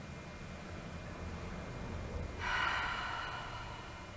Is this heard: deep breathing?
yes